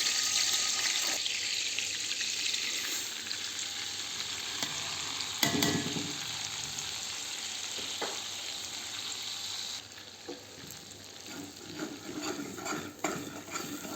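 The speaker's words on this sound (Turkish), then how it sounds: "güzel bir şekilde karıştırarak kavuruyoruz" Semolina roasting in melted margarine and oil is stirred steadily in the pan, giving a continuous close sizzle with scraping strokes and a few sharper knocks, no talking.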